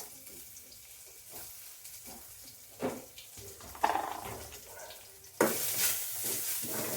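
Spices frying in hot oil for a rasam, a soft sizzle under clinks and scraping stirs, swelling louder and brighter near the end as more goes into the pan.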